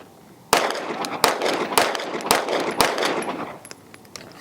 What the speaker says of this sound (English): Landon, first 5 shots with nothing. Here we go.